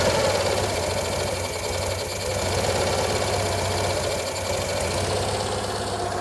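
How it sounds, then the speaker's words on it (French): A small 18-horsepower engine idles on choke with a steady, close, rapid knocking chug that holds evenly throughout with no talking. "Donc là, ça tourne en starter."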